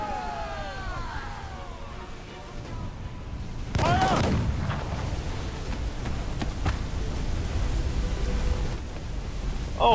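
Ship cannons firing in the naval battle game Assassin's Creed Freedom Cry, a heavy booming volley bursting out mid-clip over rumbling sea and wind ambience, loud and close, with a few later thuds.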